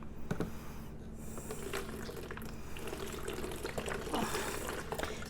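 Vinegar is poured into a container as a steady, close liquid stream, with a continuous splashing gurgle and brief bubbly surges.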